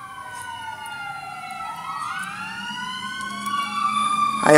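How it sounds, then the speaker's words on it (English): Emergency vehicle sirens wail in the background outdoors, with several rising and falling tones overlapping at moderate loudness and growing slightly louder toward the end. "I don't know if you guys can hear all the sirens and the ice cream truck in the background,"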